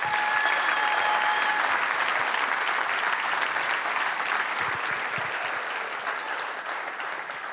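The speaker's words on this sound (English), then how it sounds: "Please give a round of applause to our speakers tonight." Loud, sustained applause from a large audience for the speakers at a Gamecock sports preview event, dense continuous clapping close by that tapers only slightly over several seconds, with no talk.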